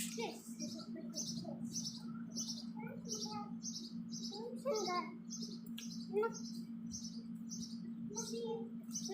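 A small bird chirps repeatedly outdoors, rapid high tweets in a steady rhythm throughout, set against a constant low hum, with a few louder calls partway through.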